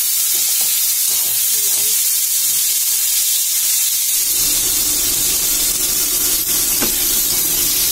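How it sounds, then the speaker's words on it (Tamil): Onions sauté in a pan, giving a continuous close sizzling hiss that grows fuller and steadier in the latter half, with no talking. "வெங்காயத்தை போட்டு நல்லா வதக்குங்க."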